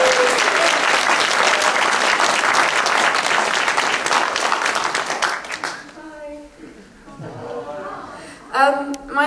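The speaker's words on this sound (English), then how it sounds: "Would you please put your hands together, give her a warm welcome" Audience at a school talent show bursts into warm applause welcoming a singer to the stage, dense clapping for several seconds that fades out as people begin talking.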